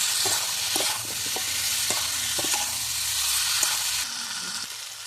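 Ginger and garlic paste sizzles steadily in a pan while a spatula stirs and scrapes it in repeated strokes, a continuous close hiss with occasional knocks and no talking.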